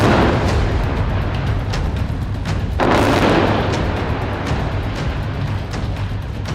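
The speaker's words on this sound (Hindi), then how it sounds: "यहाँ लगातार धमाके हो रहे हैं" Heavy rumbling blasts from explosions in the Israel-Gaza conflict roll through dense low-frequency noise, with a sharp loud burst about halfway through, like distant explosions echoing continuously.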